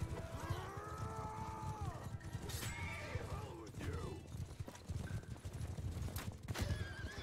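Horses in the battle game Mount and Blade 2 Bannerlord neigh and whinny loudly several times over a dense, rapid clatter of galloping hooves, with battle noise and someone talking at moments.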